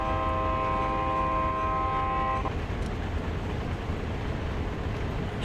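Freight train in the Train Sim World game (Peninsular Corridor) rumbling steadily, with a sustained multi-tone horn blast for the first couple of seconds that cuts off abruptly, leaving a continuous loud rolling drone.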